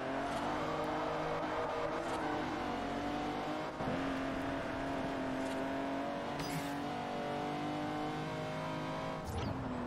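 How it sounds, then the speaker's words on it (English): A 60-year-old race car with a race transmission in Forza Horizon, its engine droning loudly and steadily with long gear pulls and brief shifts, heard close and continuous throughout a street race. "Using a 60-year-old race car."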